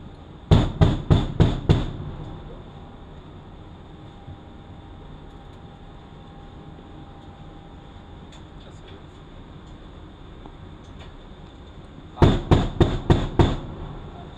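Naval gun aboard the USS Ross firing rounds during a weapons exercise, two loud rapid bursts of about five sharp reports each, separated by a long quieter stretch of ship noise.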